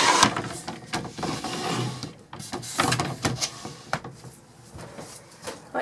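Clattering and sliding sounds as a lightweight caravan sliding door is pulled along its track, with knocks and rattles scattered across several seconds, close by.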